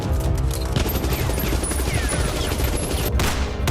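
Rapid gunfire from a sound effect, a sustained, dense barrage of shots with a rumbling low end and sharp cracks, loud and continuous for nearly four seconds with no talk over it.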